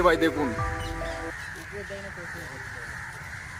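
Crows caw loudly from a tree in front of a house, harsh repeated calls that fade into a quieter background while someone speaks.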